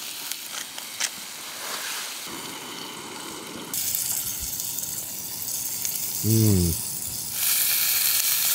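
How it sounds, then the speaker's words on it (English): Steady broadband sizzling of meat frying in a pan, continuous through the clip, with a brief voice sound partway through. "Sizzle, sizzle"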